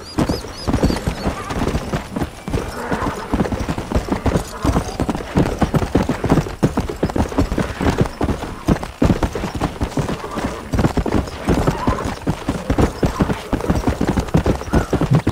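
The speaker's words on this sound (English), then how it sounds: "Horses back there being awful noisy, aren't they?" Horses in the Red Dead Redemption video game clop steadily along with hooves beating in a continuous rapid rhythm, an occasional neigh or whinny rising over the busy, fairly loud trotting.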